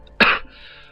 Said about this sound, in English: also apologise for my coughing